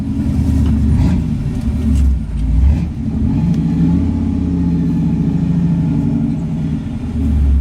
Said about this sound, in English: That's a Corvette. That was a vet.